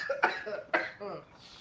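Someone coughs two or three times in quick, harsh bursts near the microphone, with a muffled vocal sound after them.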